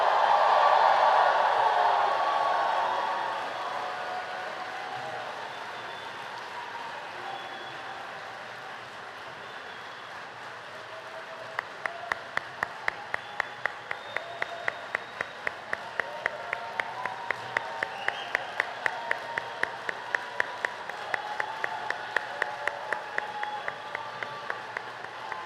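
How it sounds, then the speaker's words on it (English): A graduation audience applauds the class of 2022, dense clapping fading from a loud opening burst, then settling into sustained, rhythmic unison clapping through the latter half. "Please join me in giving class of 2022 a big round of applause."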